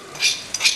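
Toasted cumin and fennel seeds crushed in a grinder make two short, close, gritty whirring bursts that come less than half a second apart.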